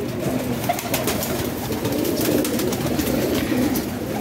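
A champion racing pigeon coos softly and repeatedly in a steady murmuring rhythm, close by, over a busy background of other birds.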